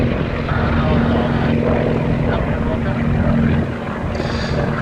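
A Percival Provost propeller aircraft flies at an air show with a steady, loud, rumbling engine drone that stays close and constant throughout, easing slightly at the end.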